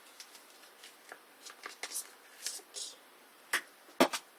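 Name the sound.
opening the packaging of a makeup brush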